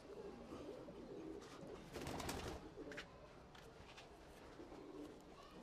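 A Chandna pigeon coos in repeated soft, low throaty phrases close by, with a brief rustle or flutter midway and faint background noise.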